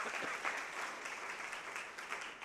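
Applause from the congregation at a church inauguration festival, a brief faint burst of clapping from a crowd at a distance.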